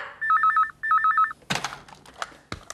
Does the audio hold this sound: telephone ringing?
yes